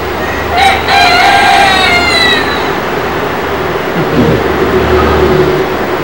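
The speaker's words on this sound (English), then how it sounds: "Look at all these chicken hens and chickens over here." Hens and chickens at an Australian wildlife park in 1998 clucking and crowing close by, with a brief crowing call in the first few seconds before fading into steady outdoor background noise.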